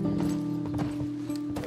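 A horse's hooves clip-clop at a steady gait while it is ridden in The Last of Us video game, close and fairly quiet over a low ambient drone.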